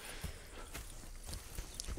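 Horse hooves clip-clop faintly in the Red Dead Redemption video game, a few soft, uneven steps over a quiet background.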